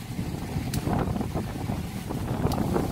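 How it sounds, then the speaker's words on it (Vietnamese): Strong wind buffeting an outdoor microphone while ornamental trees are being pruned in Quất Lâm, Nam Định, a constant rough rumble with irregular gusty bursts and occasional faint clicks. "gió rất to các bạn nhé"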